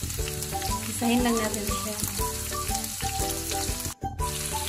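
Garlic, onion and tomato sizzle in hot cooking oil with steady, close crackling and occasional stirring, while someone talks over the frying.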